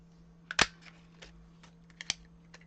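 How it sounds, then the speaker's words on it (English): Scissors snip a rose shape out of paper in a few quick, close, crisp cuts separated by short pauses, with no talking. "I'm going to cut this rose out."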